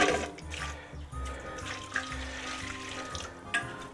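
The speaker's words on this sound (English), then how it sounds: "So I've got my hot water. Just pour that over." Hot water is poured over cheese curds in a home kitchen while making provolone. It makes a soft, steady splashing and trickling sound, close and fairly quiet, lasting a few seconds.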